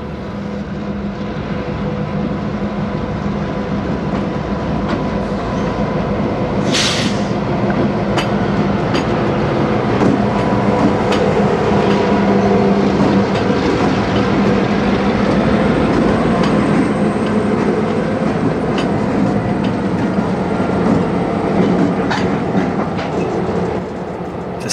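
A Twin Cities and Western freight train, the St. Paul Turn, rolls steadily past close by toward the Minnesota Commercial yard with a loud, continuous rumble and rhythmic clatter of wheels over rail joints.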